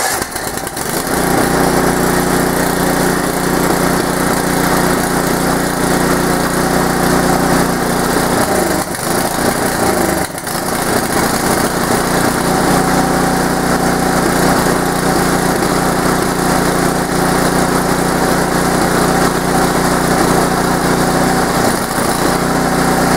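A small gasoline engine runs steadily after choke and fuel are set, a loud continuous buzzing drone with a steady hum, dipping briefly about halfway through before resuming alone with no talk.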